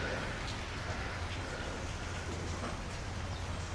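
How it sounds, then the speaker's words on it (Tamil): Steady rain falling in heavy, even sheets, a continuous soft hiss with a low rumble underneath, quiet and unbroken with no distinct drops standing out. "மழை கொஞ்சம் கம்மியாச்சுன்னா நல்லாயிருக்கும்."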